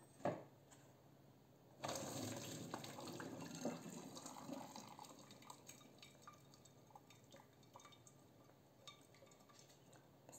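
Water suddenly gushes and splashes into a sink as cooked noodles are drained, then tapers to dripping and trickling with a few light clinks of a pot.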